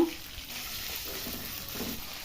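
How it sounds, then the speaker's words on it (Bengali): Chopped carrots sizzle in hot oil over medium heat, a soft, steady crackle at low volume, brief and even throughout, with no one speaking. "ওই তেলের মধ্যে কেটে রাখা গাজরগুলো দিয়ে দেব"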